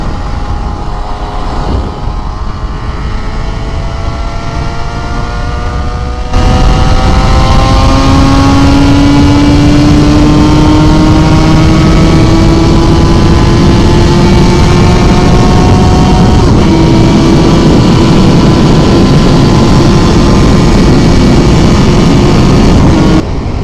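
A Kawasaki KR1S 250cc motorcycle engine roars loud and close, its pitch climbing steadily higher as it revs through the gears, with no talking.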